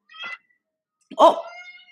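A black cat meows twice close by, a short call followed by a longer, louder drawn-out meow, with no talking over it.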